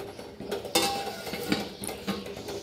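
A metal lid clanks onto a cooking pot of simmering beans, a few sharp close clinks and rattles of metal against metal with no talking.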